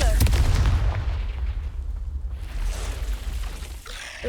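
Confringo blasting spell going off in Hogwarts Legacy, a heavy, booming explosion at the start that rumbles and fades over a few seconds, followed by faint lingering effects and a softer burst near the end.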